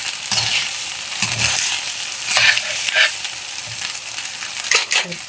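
Leftover cooked rice frying and being stirred in a pan, with a steady hiss of sizzling broken by repeated scraping and stirring strokes, heard close with no talking.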